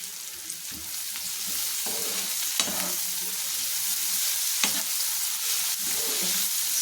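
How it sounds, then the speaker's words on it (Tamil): Crushed garlic and onions fry in a pan over medium flame, giving a steady close sizzle broken by occasional scrapes and clacks of stirring, with no talking. "இதை நீங்கள் இது கூடயே போட்டுருங்க பூண்டும் நல்லா வதங்கட்டும்"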